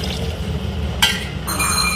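Water is poured from a tumbler into a cooking pot for rice and lentil rice, four tumblers for two of rice: a steady liquid splash with a brief clink partway through, close by and with no talking.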